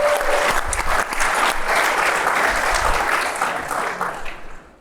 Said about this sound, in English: you can give him a round of applause for that.